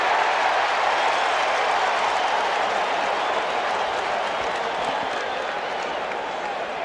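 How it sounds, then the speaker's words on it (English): A festive crowd at Shea Stadium for Game 6 of the 1986 World Series between the Red Sox and Mets applauds and cheers as a steady, dense roar that fades slightly toward the end. "It is a festive, highly enthusiastic crowd as Wade Boggs awaits the first pitch"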